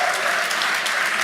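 A high school church audience applauds, a dense, steady wash of clapping filling the room throughout, loud and sustained, with no distinct voices.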